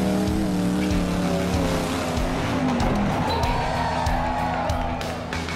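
Off-road racing vehicles at Southern Rock Racing's Grey Rock event in backwoods Alabama bounce over rocks with a loud, steady engine roar, whining revs and clattering knocks; close and continuous.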